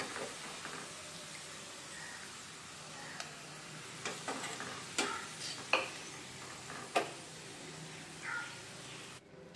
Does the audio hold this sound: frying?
yes